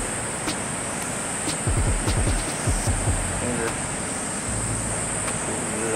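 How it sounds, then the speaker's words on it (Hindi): A waterfall fed from the lake at Hemkund Sahib in Uttarakhand pours down into a river, heard as a constant broadband rush, with low thumping handling noises and bits of nearby talk over it. "वहीं कुंड से जो झरना आ रहा है ये नीचे आके नदी में मिलता है।"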